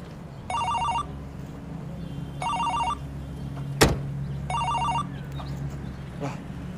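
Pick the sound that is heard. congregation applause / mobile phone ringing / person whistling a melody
mobile phone ringing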